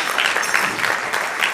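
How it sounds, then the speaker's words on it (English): A crowd at a Native American dance event applauds a dancer from Saskatchewan, with a brief burst of dense, continuous clapping from many hands. "Give yourselves a round of applause, ladies and gentlemen, for Josh Atchinum."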